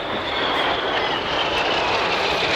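Red Arrows jets in a crossing pass at the International Ayr Show 2023, two aircraft closing from opposite sides at low level, producing a steady, loud roaring rush of engine noise that swells slightly through the clip.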